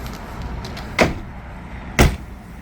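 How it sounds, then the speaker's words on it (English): Two halves of a door on a 2026 Aliner Scout Lite A-frame camper being shut, two distinct solid thuds about a second apart, close and clear over light background noise. "Step out and close both halves of your door."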